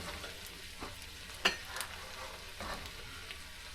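Garlic frying in melted butter for Vietnamese-style garlic ramen noodles gives a soft, steady sizzle with a few light stirring clinks. Close but quiet, with no talking.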